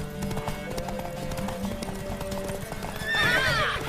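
Horse hooves clip-clop steadily in The Witcher 3: Wild Hunt game, with a loud, close whinny rising near the end over a low background of game ambience.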